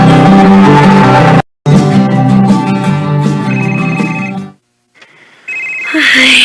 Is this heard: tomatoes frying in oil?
no